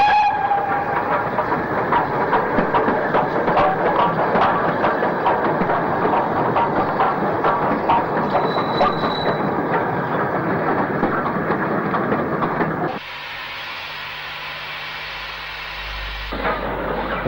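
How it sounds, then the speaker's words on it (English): Steam locomotive 75029, a double-chimney engine, hauls the Cambrian Coast Express into a Shrewsbury station in the 1960s, with steady rumbling wheels and rail clatter and a brief whistle, then quiets to a low hiss. "Arriving at 12:44 is the Up Cambrian Coast Express behind 75029"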